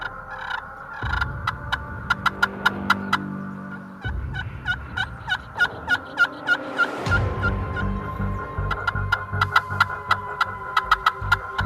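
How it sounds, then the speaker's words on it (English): Rio Grande wild turkeys gobble repeatedly in open ranch country, the rattling calls rising in several bursts over steady low background noise, some close and loud, others farther off. "They'll gobble a little bit at us when they make those calls."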